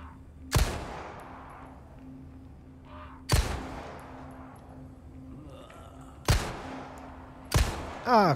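Four sharp gunshots ring out in the video game Resident Evil 4 Remake, loud single cracks spaced a few seconds apart with short decaying tails over a quiet background.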